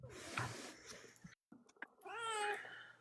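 A cat meows twice up close, first a rough, drawn-out cry and then, after a short silence, a clear rising and falling meow, over a faint steady hum.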